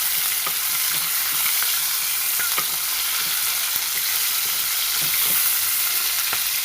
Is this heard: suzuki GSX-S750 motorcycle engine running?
no